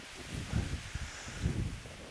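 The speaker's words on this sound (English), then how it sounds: "The problem with this area is it's like a middle of a field, so the wind is just like blasting." Strong wind blowing across an open field, a loud continuous buffeting rush with low gusty thumps against the microphone.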